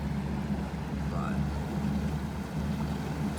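A fishing boat idling offshore on a lake in Florida's Harris Chain, a steady low engine rumble continuing throughout at a moderate level, with someone talking over it.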